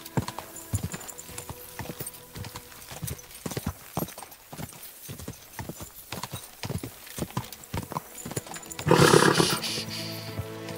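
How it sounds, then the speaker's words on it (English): Rhythmic horse hoofbeats in the video game Kingdom Come: Deliverance II clip-clop steadily and close, with a louder burst of noise near the end; no talking. "Easy, good horse."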